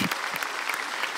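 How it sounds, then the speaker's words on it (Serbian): A television show audience welcomes a violinist on stage with dense, steady applause that fills the whole moment, close and bright, with no break. "Molim vas, aplauz."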